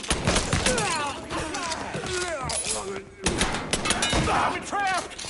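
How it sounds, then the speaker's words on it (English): Gunfire rings out in a Mafia 3 shootout, rapid shots and bursts heard under almost continuous shouted game-character dialogue, with the voices dominating throughout. "Over there, shoot him!"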